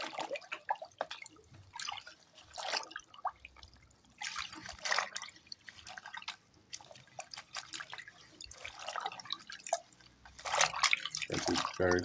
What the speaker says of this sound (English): So now we need to clean this up in this salt water solution.